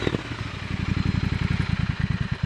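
A Triumph Scrambler 1200 XC motorcycle engine runs close by, a loud, steady low-pitched throb of rapid regular firing pulses with a slight rise in intensity partway through, and no voices.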